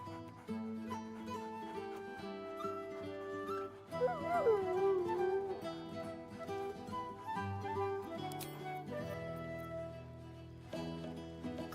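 A dog companion in the video game Baldur's Gate 3 gives a few short, cheerful barks and whines over a layered orchestral game score, the animal sounds rising briefly mid-clip before the music carries on.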